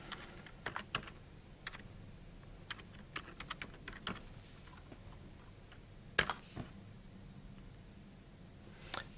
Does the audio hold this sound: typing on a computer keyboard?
yes